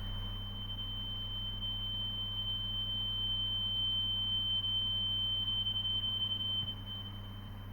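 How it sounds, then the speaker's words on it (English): A persistent high-pitched electronic beep in the video game 7 Days of Summer Lost Alpha: a single steady tone drones on without a break over a low hum, with no talk. "that beep is really, really getting into my ears"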